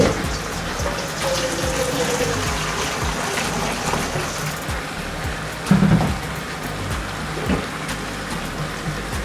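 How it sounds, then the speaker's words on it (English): Hot water pours into a cooking pot from a seasoned pan for a Jamaican curry goat, a steady close splashing flow with a brief louder clatter partway through. "what I'm going to do is to go in with some hot water and get all this flavor that's left behind in the pan"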